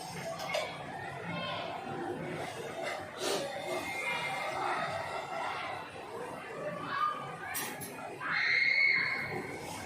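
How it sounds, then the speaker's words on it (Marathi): Children shouting and chattering outdoors, a continuous muffled crowd of young voices heard from indoors at moderate distance, with a louder burst of shouts near the end. "किती मुलं ओरडतात बापरे."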